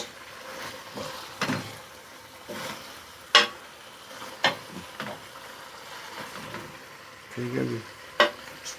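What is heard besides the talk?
stirring potatoes and chicken in a cooking pan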